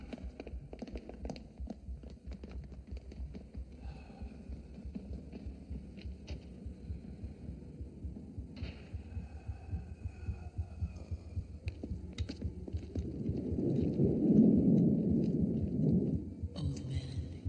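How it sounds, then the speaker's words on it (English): A slow heartbeat with a low, throbbing pulse that swells into a deeper rumbling surge near the end, with no talking. "Old man, hear your heart beating."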